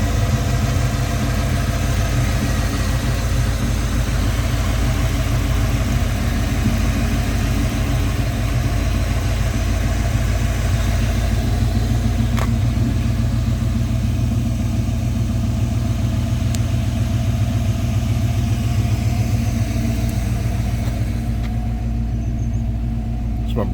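A 1995 Ford Bronco engine idles steadily up close, a low continuous rumble with even mechanical ticking and no break in the sound.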